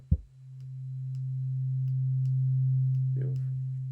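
A brief click, then a pure, steady sine tone from a wavetable synthesizer in Ableton holding for several seconds, smooth and unwavering, with faint ticks in the background.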